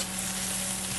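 Onions fry in a pan with a dense, continuous sizzle and crackle, loud and steady throughout with no talking.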